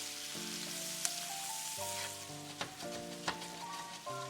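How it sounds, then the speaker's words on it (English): Shrimp cook in a garlic butter sauce in a single pan, a continuous gentle sizzle running under background music, with a few brief sharper pops along the way. "let the shrimp cook in the sauce for 1 more minute"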